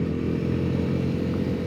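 A motorcycle rides in third gear on a curving rural road near Ramdurg, with a steady, loud engine drone and wind rumble close to the microphone throughout.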